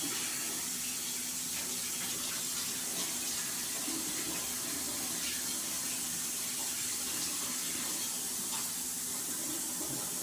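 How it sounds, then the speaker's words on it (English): Hot water runs steadily from a kitchen tap, as hot as it gets, for mixing bread dough: a continuous broadband hiss and splash at moderate level, with no voices. "Water hot as we can get it."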